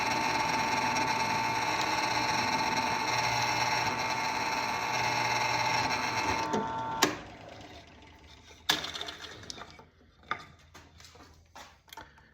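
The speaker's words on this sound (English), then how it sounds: "I'm going to drill those holes first and then flip it over" Drill boring holes through a Bowie rasp knife handle, a steady motor whine running for about seven seconds before cutting off, followed by a few sharp clicks and knocks in a quiet workshop.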